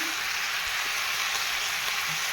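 Chopped onion goes into a hot frying pan, giving a steady, even sizzle of hot oil with a few faint clinks and stirring touches underneath.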